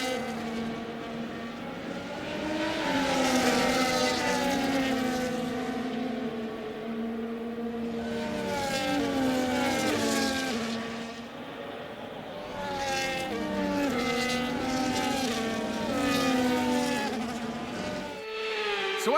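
F1 cars on a formation lap at Monaco in F1 25, a pack of high-revving engines whining and rising and falling in pitch as they pass, steady and fairly close with no talk.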